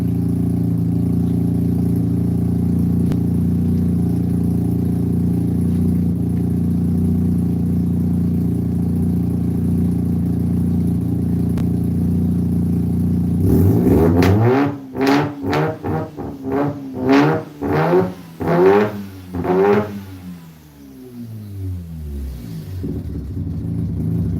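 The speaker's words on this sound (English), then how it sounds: "He sounds so quiet when he's just sitting there idling, but when you rev it, like it sounds hella good." A turbocharged car engine idles with a low, steady hum, then revs sharply several times in a row, loud and close, before settling back toward idle.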